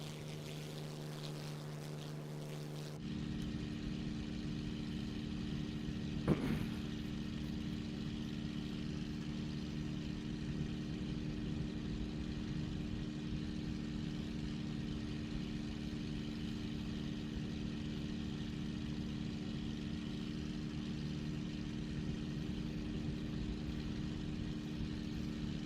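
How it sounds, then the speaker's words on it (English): A P-51 Mustang propeller engine in Microsoft Flight Simulator drones steadily with a deep throbbing hum and harmonic whine, after a brief differently pitched start, holding constant and close with one short click partway through. "The P-51, such a iconic and beautiful aircraft."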